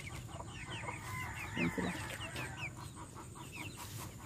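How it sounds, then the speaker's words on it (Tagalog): Chickens clucking and chirping steadily, with a brief low voice speaking partway through over a busy farmyard background. "Ang kanyang mga alagang manok na yun."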